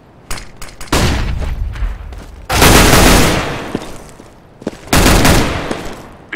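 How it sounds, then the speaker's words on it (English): Flashbang grenades in the CS:GO video game go off in three loud, sharp bursts, each decaying into a hiss, with a few lighter clicks and thuds between them. "Throwing flashbang."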